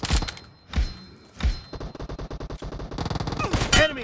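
Rapid gunfire in PUBG Mobile during an 8v8 arena training match on Santorini: a few heavy single booms, then a fast automatic stream of shots that swells into a loud final burst.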